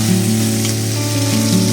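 Pork sizzling loudly in a hot pan as a spoonful of garlic-ginger paste goes in, a continuous close frying hiss with a faint shift partway through.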